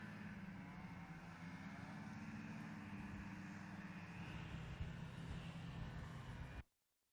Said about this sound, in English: that big 4-stroke is running both the lift and the thrust side